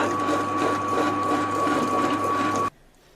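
A wet grinder churns unniyappam batter, with cardamom added during grinding: a steady mechanical whir and hum runs loud and even for under three seconds, then cuts off abruptly into near silence.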